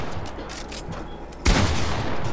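A burst of gunfire erupts midway through a Fortnite zone wars match, a sudden loud crack followed by rapid shots, after quieter game ambience.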